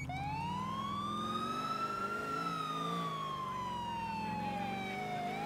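A police siren from the video game GTA IV gives one long wail that rises slowly, peaks, then falls, loud and continuous for the whole stretch with no talking.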